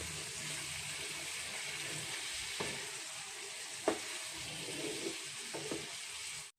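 Mango and pineapple cook with salt and turmeric in a pan, giving a quiet continuous simmering sizzle with a few soft stirring knocks.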